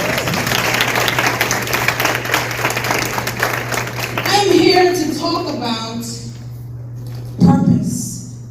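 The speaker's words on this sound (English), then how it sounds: "Give yourselves a round of applause." Energetic audience clapping at a women's leadership event held by a softball academy, a thick burst of applause that fades after about four seconds as voices and cheering take over, with a steady low hum beneath.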